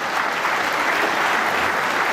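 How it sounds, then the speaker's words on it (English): Audience applause at the 2017 World Snooker Championship final between Mark Selby and John Higgins, a steady, dense clapping from a large indoor crowd that holds evenly throughout. "That's the applause"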